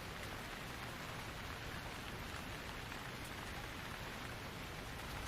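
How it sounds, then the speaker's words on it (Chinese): Light rain falls steadily on surfaces, an even, continuous patter with no voices or other sounds over it. "已经不怎么下雨了，没必要打伞吧？"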